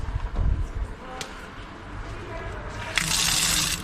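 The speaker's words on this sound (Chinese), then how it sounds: "不错，这水管水量还挺大的。" Water gushes strongly from a hose at an outdoor tap while refilling a motorhome's tank, a steady rushing flow that grows louder near the end, with faint background voices.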